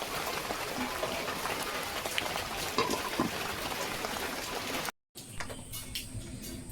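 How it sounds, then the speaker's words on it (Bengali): Steady rain falls outdoors, a continuous hiss with scattered drops, briefly cut off near the end before resuming more faintly. "দেখো বাইরে কেমন বৃষ্টি পড়ছে"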